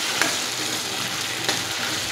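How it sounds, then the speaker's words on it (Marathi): Onion, ginger and garlic paste sautés in a pan for a sauté step in a Sauji egg curry, with a continuous close sizzle and a couple of light scraping stirs. "ही पेस्ट 1 ते 2 मिनिट चांगली परतून घेऊया"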